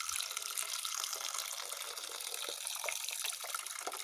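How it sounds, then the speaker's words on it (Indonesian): Water poured out of a coconut-shell bonsai container after roughly three months of soaking, a steady close splashing gush that runs continuously with no talk. "kita buang terlebih dahulu airnya teman."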